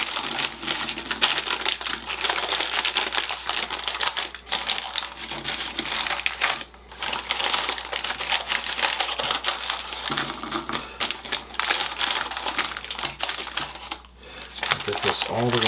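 Ceramic baking weights poured and spread over parchment paper inside a pie crust, giving a dense, continuous rattling and crinkling clatter that runs for several seconds with brief pauses.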